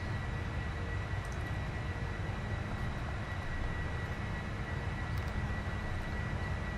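Steady roar of an airliner's engines in flight, a Polar Air Cargo jet climbing out of Cincinnati toward Chicago in the Prepar3d v3.4 flight simulator, a constant dense rumble with no talk.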